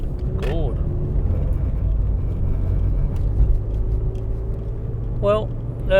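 A VW Golf 5 rolls over a rough stretch of road, a steady low rumble and tyre roar filling the cabin, with a couple of brief squeaks and rattles near the start and end.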